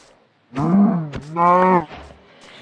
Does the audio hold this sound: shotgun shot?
no